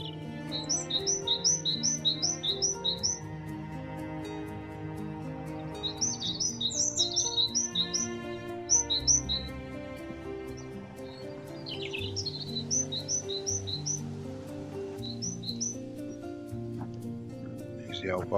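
A great tit sings at Thurrock Thameside nature park, repeating quick rhythmic runs of bright high notes in several bursts, moderately close, over a continuous low rumbling backdrop.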